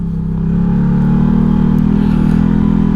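Can-Am Maverick Sport X xc side-by-side with its 100-horsepower V-twin engine revving loud and close, a steady high-rpm drone that swells in the first half-second and then holds.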